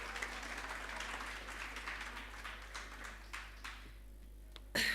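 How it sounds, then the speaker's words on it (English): An audience applauds a woman from the Sasol Foundation as she steps up at a women's forum launch, steady clapping filling the room and fading toward the end. "A round of applause for her, please."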